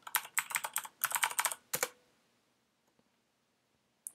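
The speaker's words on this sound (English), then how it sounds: "And then type in raspberry or password of your choice twice." Rapid typing on a computer keyboard, two dense runs of crisp clicks followed by a hard keystroke, then near silence with a couple of faint taps and a final click at the end.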